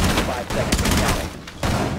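Rapid bursts of gunfire in Rainbow Six Siege, a team deathmatch bomb round on the Consulate map, crackle loud and close in uneven volleys with brief lulls, mixed with game audio and faint voices.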